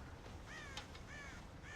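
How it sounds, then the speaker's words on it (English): Crows caw around a farm silo in the Western game Red Dead Redemption, with several hoarse calls coming quietly from a distance against steady background noise. "God damn crows!"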